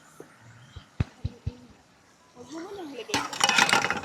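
At a campsite in Tanay, Rizal, a utensil clinks sharply against a cooking pot a few times as food is stirred, then a voice talks before a louder burst of scraping and clattering.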